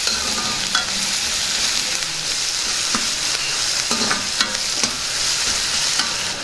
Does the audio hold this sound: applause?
no